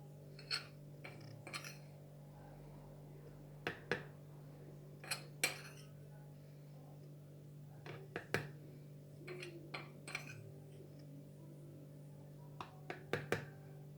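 Coffee spooned into a pot of water, a series of sharp metallic clinks and taps of spoon against metal, spaced irregularly over a low steady hum, close and fairly quiet.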